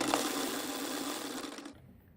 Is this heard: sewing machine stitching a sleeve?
yes